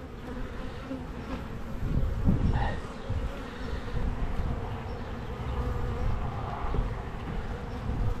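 Honey bees buzz steadily around an opened hive while frames are inspected on a breezy day, a dense continuous drone that swells slightly midway and stays close throughout, with no talking.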